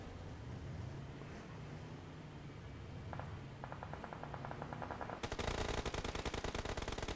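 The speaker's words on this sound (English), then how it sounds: "All right, shots being traded with these two." Video game gunfire between two teams in a scrim match, with sustained rapid machine-gun bursts that grow louder and denser toward the end over a steady rumbling background.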